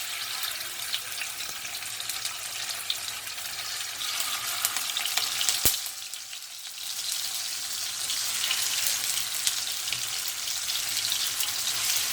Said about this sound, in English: you just put the slices of tofu into the pan